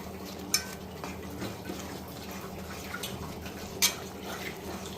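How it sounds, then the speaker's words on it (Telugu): A spoon stirs pesara laddu mixture in a pan. Close clinks and scrapes carry over a constant low background hum, with two sharper knocks against the metal. "సో ఇప్పుడు మనం ఇలా మిక్స్ చేసుకుంటున్నాము."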